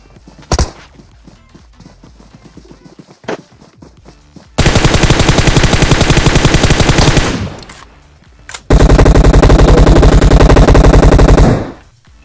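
Bursts of automatic gunfire from a battle royale video game: a few isolated shots, then two long, loud sustained volleys of rapid fire separated by a short pause.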